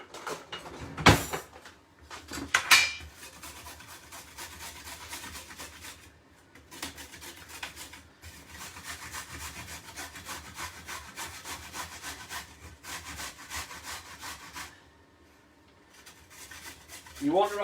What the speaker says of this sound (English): We've got a carrot here which I am going to grate.